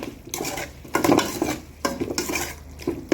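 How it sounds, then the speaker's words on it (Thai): Green curry pork is stir-fried in a pan, with repeated scraping strokes of a spatula against the pan over a light sizzle. The stirring comes in a quick, uneven rhythm and sounds close. "ก็ผัดให้หอมเลยนะคะ"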